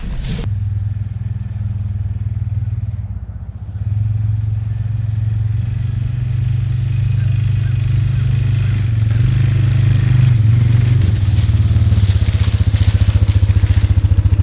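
A four-wheeler ATV without four-wheel drive drives outdoors, its engine making a steady, loud low drone that thickens as it pushes on, with rattling and clatter over the rumble.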